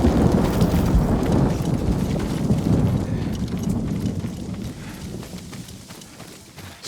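Horse hooves clop steadily on rough ground in Ghost of Tsushima, a close, continuous trotting rhythm under wind that slows and fades as the rider dismounts.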